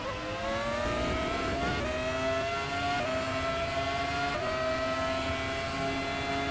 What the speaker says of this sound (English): Hard braking for the final hairpin.